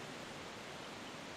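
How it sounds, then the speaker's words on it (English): Forest water poured out in Zelda: The Wind Waker HD, a brief steady rushing splash of water at moderate level, heard alone. "Let's pour this out."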